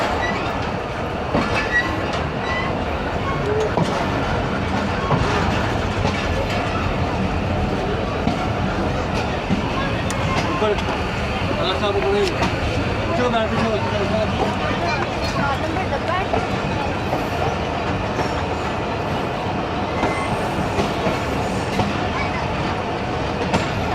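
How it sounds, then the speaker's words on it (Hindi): Allama Iqbal Express passenger train running after departing Pattoki, heard from inside a coach: a steady, loud rumble of wheels on track with clickety-clack and brief faint wheel squeal throughout, with a murmur of passengers underneath. "तो पतोकी से रवाना हो गई है ट्रेन।"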